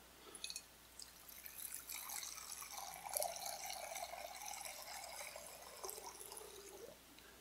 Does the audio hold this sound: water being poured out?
yes